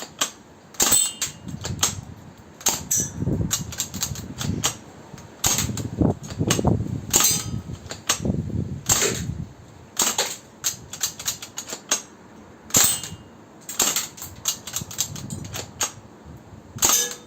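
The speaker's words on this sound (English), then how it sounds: "I'm just shooting at a coffee jar, by the way" Faulty Umarex M1A1 Thompson airgun firing at a coffee jar indoors: irregular sharp cracks, mostly single shots with the odd quick burst, each followed by a faint impact or rattle, spread over a long stretch without talking.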